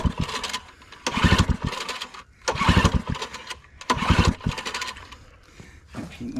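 A scrapped generator engine is pull-started with the choke on. It gives four close, loud bursts of rapid cranking and sputtering, each separated by a short pause, and it never catches and runs.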